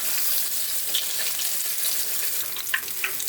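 Tilapia deep-frying in hot oil, a steady dense sizzle with crackling pops, close and continuous throughout.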